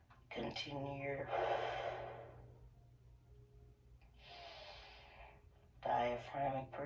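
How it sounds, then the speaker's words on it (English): Deep diaphragmatic breathing during a stretching session, in through the nose and out through the mouth, heard as a few slow, soft, close inhales and exhales with faint background hum. "diaphragmic breathing, inhaling deeply through the nose and out through the mouth"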